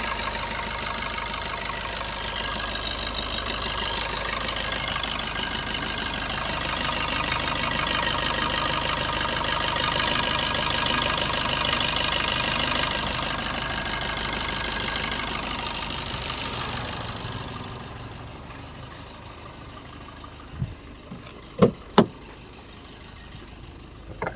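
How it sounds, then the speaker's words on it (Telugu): A 2019 Maruti Suzuki Swift Dzire with a new battery idles steadily, a constant close engine hum that stays even for most of the stretch. It then quietens, and a few sharp clicks or taps follow near the end. "ఇంజన్ సౌండ్ చూసుకోవచ్చు"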